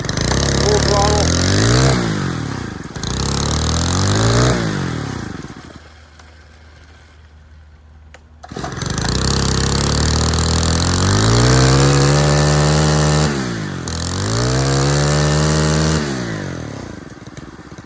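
A warmed-up Stihl KM90R weed eater engine, choke off, revs hard to full throttle in repeated surging bursts, drops to a low idle for a couple of seconds, then screams up again, loud and close.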